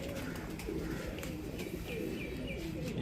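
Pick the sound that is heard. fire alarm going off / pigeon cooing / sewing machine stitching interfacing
pigeon cooing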